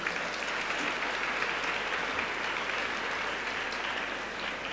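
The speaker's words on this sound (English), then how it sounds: "Let us welcome Professor Kamakodi to our college with a round of applause" Sustained audience applause fills a college graduation day ceremony, steady and dense throughout with no voices rising above the clapping.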